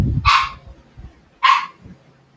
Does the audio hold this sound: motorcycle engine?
no